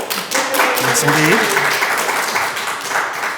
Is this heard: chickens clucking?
no